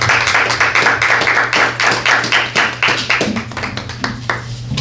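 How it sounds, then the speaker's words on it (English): A church congregation clapping together, loud and close, a dense run of rhythmic claps that continues steadily and thins slightly near the end. "Let us give the Lord a clap offering."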